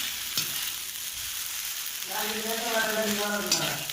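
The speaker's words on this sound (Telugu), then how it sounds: "ఈ నూడిల్స్ వేసాక మనం స్టవ్ అనేది లో ఫ్లేమ్లో మనం పెట్టుకొని మనం చేసుకుంటే మనకి బాగుంటుంది" Egg noodles frying in a pan on a stove over low flame, a steady soft sizzle with stirring scrapes, joined midway by a faint tonal whine in the background.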